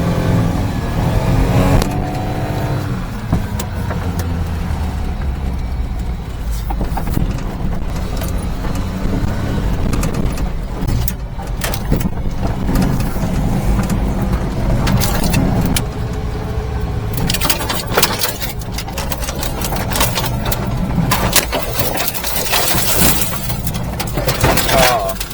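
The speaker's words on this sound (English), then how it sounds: "Four-wheel drive drifting's a little more difficult." A mini-truck engine drones and revs while the vehicle drifts in four-wheel drive on a scenic mountain road, a loud, continuous rumble with bursts of rattling and knocking as the driver talks over it.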